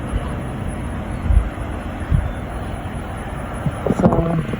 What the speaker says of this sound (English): it's like very windy out, but it looks very nice out.